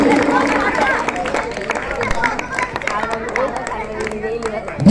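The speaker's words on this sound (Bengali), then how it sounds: "শুভম পালের জন্য আরেকবার জোরে হাততালি।" A crowd at a school annual sports meet applauds a high jump prize winner with scattered clapping, mixed with chatter and a prominent voice.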